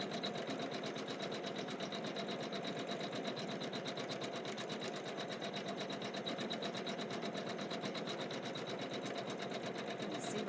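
Embroidery sewing machine stitching an embroidery mat in a steady, rapid needle rhythm, continuous and faint throughout, with no other sound standing out.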